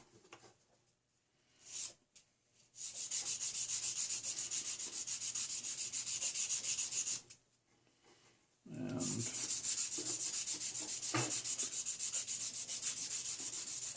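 Two long stretches of steady, gritty rubbing, like a fine abrasive stick worked back and forth over small metal tips, close up, separated by a brief pause.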